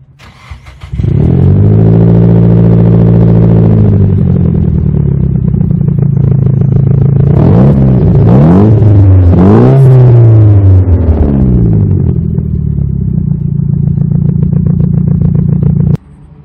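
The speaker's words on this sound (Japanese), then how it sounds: "ちょっと最後にあとマフラーの音だけ聞いてもいいですか。" A Nissan S15 Silvia engine starts and idles with a deep exhaust burble, then revs sharply several times in quick blips before settling back to a loud steady idle.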